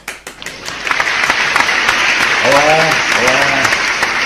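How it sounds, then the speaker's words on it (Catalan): A children's audience applauds and cheers for a presenter introducing an inventor cousin. Dense clapping fills the whole stretch, with a few loud shouted greetings on top. "Un fort aplaudiment."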